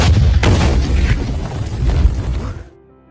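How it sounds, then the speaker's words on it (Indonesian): A landmine explodes on a beach: a loud, deep boom hits with a sharp burst, followed by a rumbling, crackling tail that fades into silence. "terjadilah ledakan."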